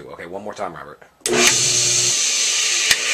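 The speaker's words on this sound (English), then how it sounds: "how this bearing sounds like a Hayward Super Pump that needs motor bearings" Hayward Super Pump pool pump motor with worn bearings starts up after brief talk, then runs as a loud, steady, harsh whine and rumble, close by, with one short knock near the end.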